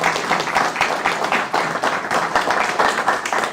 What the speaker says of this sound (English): give both candidates a round of applause for their efforts tonight